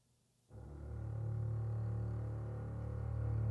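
After a brief near-silence, a deep sustained orchestral sub-bass tone from a mock-up of the 1917 film score swells in and holds, a low rumbling growl with a slight throbbing pulse.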